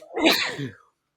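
A single sneeze bursts out close to the mic during a casual podcast recording, loud and breathy, and it fades out within a second.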